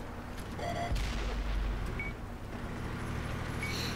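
Tank cannon fire in a tank battle video game: a heavy boom near the start with a low rumbling tail, then sustained battlefield noise and a few sharper metallic hits, fairly loud.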